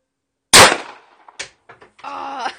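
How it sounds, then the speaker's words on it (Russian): A single loud, sharp pistol shot bursts out after a moment of silence, followed by faint clicks and handling noises and a brief voice. "Такой выстрел был смачный."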